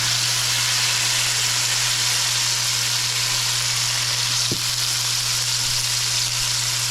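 Pork loin sears in smoking-hot oil, a steady loud sizzle and hiss close by with a low hum underneath and one brief knock midway.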